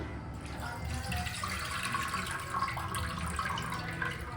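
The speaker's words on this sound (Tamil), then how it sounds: "புளியை நல்லா கரைச்சிக்கிட்டு இதில் ஊற்றிக்கலாம்" Tamarind water is poured into fish curry masala, a steady splashing, gurgling pour that runs close and continuous for the whole stretch, with no voices.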